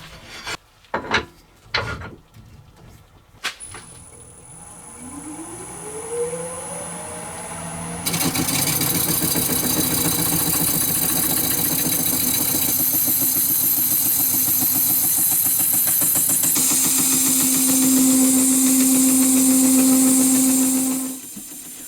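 A few sharp knocks sound first, then a wood lathe motor whines up to speed with a resin and wood hybrid blank mounted. A loud, steady rasping scrape from a carbide scraper follows and continues for many seconds before easing off.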